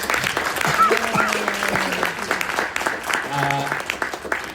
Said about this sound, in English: Can we give Tracie another huge round of applause?